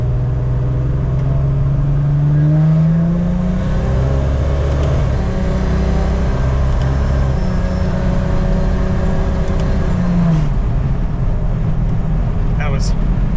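Turbocharged Jeep Wrangler LJ accelerating at about half throttle, heard from inside as a loud engine drone with rising and falling pitch sweeps through paddle-shifted gears, with a voice talking over it.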